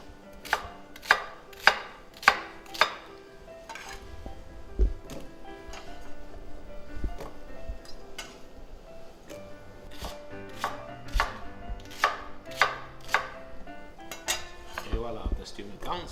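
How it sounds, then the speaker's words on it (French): A knife chops asparagus slices into small cubes on a board, a run of sharp, close, fairly regular strikes with short pauses, over a low background hum. "On va couper quelques petites rondelles en petits cubes qu'on va remettre dans la poêle avec les oignons."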